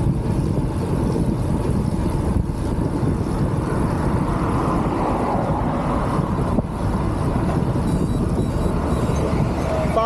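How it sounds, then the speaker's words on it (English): Two cars approach from behind on an open road while a cyclist rides a 100 km day of the Smoo Challenge; their steady rumble rises faintly through constant loud wind buffeting on the microphone. "Another car approaching, two cars approaching."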